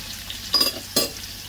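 Sausages, potatoes and onions cook in a frying pan: a soft low sizzle with two brief bursts of stirring or scraping a moment apart.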